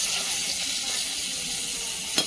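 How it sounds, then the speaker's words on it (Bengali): Eggplant slices fry in hot oil in a pan, giving a steady, close sizzle that holds throughout, with a single brief clink of a utensil near the end. "বেগুন ভাজাগুলো তাড়াতাড়ি পুড়ে যাচ্ছে, ভাজা হয়ে গেছে"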